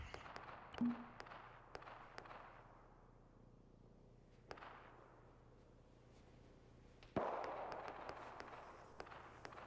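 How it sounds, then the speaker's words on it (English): An artillery barrage in Arma 3 arrives as scattered sharp blasts, some near and some distant, with rumbling tails between them and a louder burst near the end. "Right, I'm doing an artillery mission."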